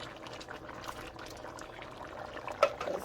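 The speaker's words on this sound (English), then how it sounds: "So we're gonna now put the lima beans, kidney beans." Lima beans and kidney beans tumble into a pot of boiling gravy for oxtail, a soft wet pour and bubbling with one brief louder splash near the end.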